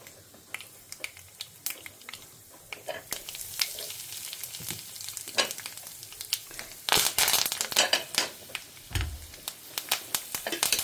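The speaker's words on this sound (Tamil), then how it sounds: "நான் இப்போ வந்து கடுகு, வெந்தயத்தை போட்டுக்கிறேன். பொரியட்டும்." Mustard and fenugreek seeds splutter and crackle in hot oil for a Tamil home-style vatha kuzhambu, a scattered run of sharp pops and sizzles over a soft frying hiss, growing busier toward the end.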